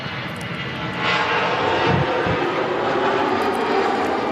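EasyJet jet airliner flying at Manchester Airport, bound for Paris: a loud, steady broadband engine roar that swells after the first second and holds, with no speech over it.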